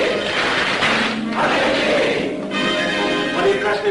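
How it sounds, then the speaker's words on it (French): A Masonic lodge ritual battery of claps followed by a spoken acclamation from the assembled brethren, a dense burst of clapping and raised voices filling the room, loud and continuous. "À moi, mes frères, par le signe, la trique de batterie et l'acclamation."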